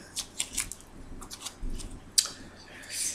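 A deck of tarot cards is cut and shuffled by hand, giving several soft, quick papery flicks and snaps spaced irregularly, close and fairly quiet.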